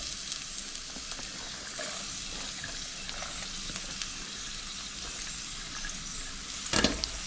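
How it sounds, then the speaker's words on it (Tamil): Chopped onions sizzle steadily in a hot pan, with soft stirring scrapes throughout and a louder clatter near the end. "வெங்காயம் ஒரு நிமிஷம் வதங்கணும்."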